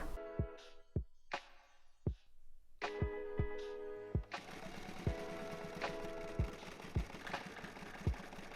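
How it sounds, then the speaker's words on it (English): A sewing machine zigzag-stitching the two ends of an elastic band together while mending a shirred skirt waistband, starting as separate spaced clunks and settling into a continuous close whirring run with a regular beat. "I can now sew the two sides of the elastic band together with a zigzag stitch"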